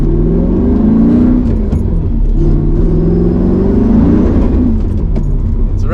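A Mercedes C55 AMG engine idles high with a strange issue after a crankshaft position sensor replacement, a loud steady rumble with slowly wavering hum tones throughout, close up, no talking.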